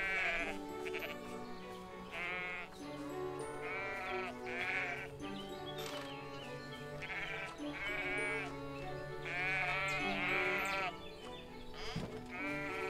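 Sheep bleat over and over in the video game Everdream Valley, several wavering calls overlapping in close succession against a soft background.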